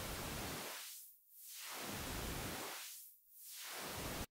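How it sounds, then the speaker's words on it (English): White noise swept through a high-pass filter in SuperCollider, a synthetic hiss that thins to a faint high sizzle and swells back to full twice in a slow, even cycle, alone and quiet. "So that's our high pass filter."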